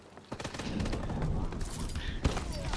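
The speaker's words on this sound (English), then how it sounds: "Oh, that guy's shooting at me." Enemy gunfire in Call of Duty: Advanced Warfare, a series of sharp shots and bursts at mid distance with a metallic clatter, while a voice talks over the firing.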